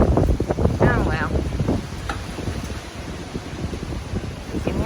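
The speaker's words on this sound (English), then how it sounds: "You can hear the wind." Strong wind after Hurricane Delta made landfall in Louisiana, blowing as a steady broadband rush with gusty swells and mic buffeting, heard at night outdoors with a person speaking briefly early on.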